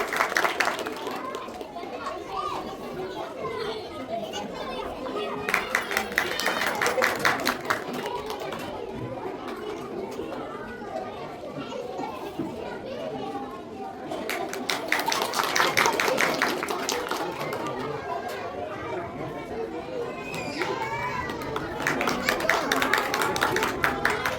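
Applause for second standard students fills a school annual function hall in several bursts of clapping, with crowd chatter and children's voices running continuously between and beneath them.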